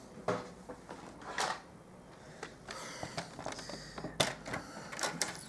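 A paper trimmer slides and clacks up close through cardstock, with a few sharp cuts and rustling of card in between.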